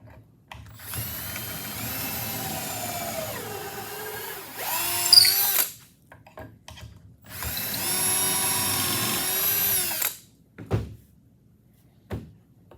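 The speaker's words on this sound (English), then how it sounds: "You'll drill your holes. We'll drill it." A power drill whirs through two long runs drilling holes through a jig set for 1 1/2 inches, pitch dropping as it bites, with brief clunks and rattles between and after.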